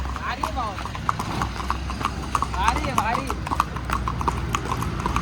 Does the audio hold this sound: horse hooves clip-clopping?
yes